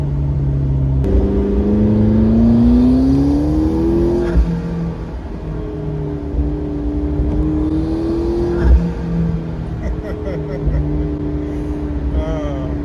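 A turbocharged McLaren MP4-12C engine revs and rises in pitch, then drops back to a steady rumble before revving again, loud and close, with a faint turbo whoosh on release.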